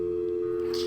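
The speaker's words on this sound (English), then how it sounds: "I'm gonna pull back so the dial tone isn't there" A steady telephone dial tone from a Nancy Drew video game, a continuous even hum held alone through the whole brief moment.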